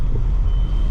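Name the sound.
car engine revving on E20 petrol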